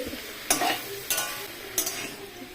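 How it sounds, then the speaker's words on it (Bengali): Tea flowers stirred and frying in a pan, with soft sizzling and three distinct scraping strokes of a utensil at regular intervals, close and clear. "আর এখন চায়ের ফুলটা আমি রান্না করে নিই"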